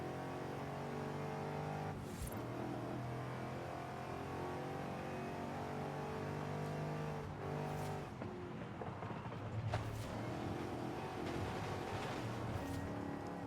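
An Aston Martin DBS with a swapped V12 engine revving in a racing video game, rising and falling engine notes with several sharp throttle blips and gear changes, loud and close with no talk.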